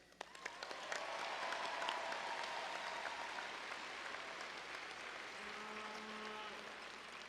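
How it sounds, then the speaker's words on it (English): Distant crowd applause fills the arena as fans celebrate the Hershey Bears' 2023 Calder Cup win at the GIANT Center, a dense hiss of clapping that swells in after a second and carries steadily to the end. "and a couple claps for them"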